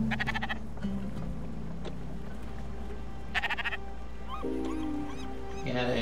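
Sheep bleating in the video game Spiritfarer, several short wavering bleats spread across the stretch, with light game sounds and a few soft croak-like calls around them.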